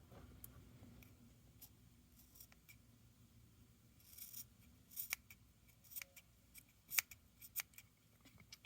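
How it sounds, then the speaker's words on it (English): Dull, slightly blunt household scissors snip through paper in a series of short, crisp clicks that get louder and more frequent toward the end, close up and quiet, with no talking. "those scissors I've been cutting paper with, so that's why they're not very sharp anymore"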